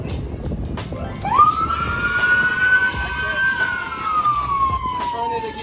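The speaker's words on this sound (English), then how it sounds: "So these right here are all the sirens and the lights, right?" A police K-9 patrol car's siren is switched on, a single rising then slowly falling wail, close and loud over faint background noise.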